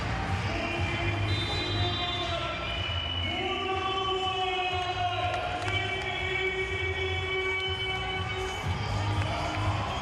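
A volleyball crowd cheers at a CEV Champions League match between VakifBank Istanbul and Vero Volley Monza, with steady, loud arena roar and sustained chanting tones running throughout.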